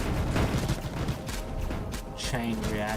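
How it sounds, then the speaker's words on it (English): In the Mindustry strategy video game, rapid chain-reaction explosions crackle and thump in a dense, overlapping barrage, with a voice speaking over the tail end. "Chain reaction explosions are great."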